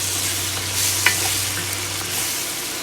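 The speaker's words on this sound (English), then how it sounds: "So let's give this a quick toss." Cabbage and potatoes are tossed with butter in a pan, with a steady close sizzle, soft stirring scrapes and a single sharper clink partway through.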